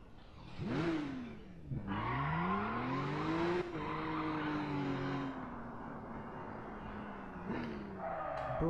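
Porsche Cayman S engine in the racing game Need for Speed Rivals, revving and shifting through gears with rising and falling pitch sweeps, loud and close, with tire noise between shifts.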